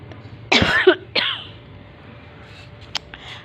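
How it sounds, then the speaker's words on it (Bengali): A mother and young daughter who both have colds cough, with two harsh, close bursts in quick succession, the first longer and rattling, followed by quiet room sound and a brief faint click. "আমাদের দুজনেরই কাশি হয়ে গেছে প্রচুর।"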